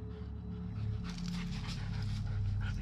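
A giant eight-month-old Lycan Shepherd puppy pants close by in quick, breathy rhythm, breaking into soft whimpers partway through, with no voices over it.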